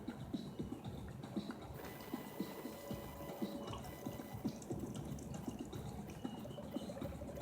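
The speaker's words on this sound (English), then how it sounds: "Do you see that water coming out?" Coconut water drains from an opened coconut: a soft, continuous trickle with small irregular drips and splashes, close but quiet.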